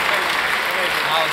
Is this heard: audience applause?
yes